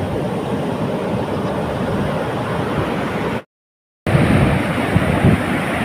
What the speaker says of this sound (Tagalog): Yan, grabe ng alon,